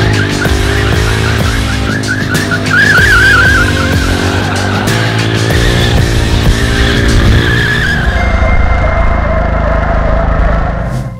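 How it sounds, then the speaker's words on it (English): Car doing rolling burnouts to warm its tires before drifting: a loud, close engine revving high with squealing, screeching tires that waver continuously, then settles into a steadier tone near the end. "let's warm up the tires with some rolling burnouts"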